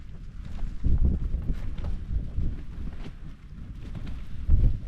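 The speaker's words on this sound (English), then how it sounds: "You can feel the wind." Strong wind buffets the microphone high on a mountain in the Moelwynion, a loud, low, gusting roar that swells and eases with no talk over it.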